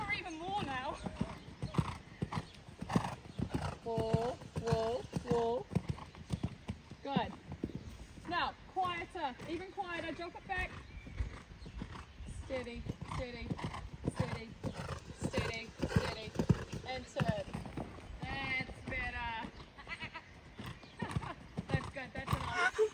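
A newly acquired horse in Germany, ridden with a trainer present, gives steady clip-clopping hoofbeats and several whinnies, close by, while people talk throughout.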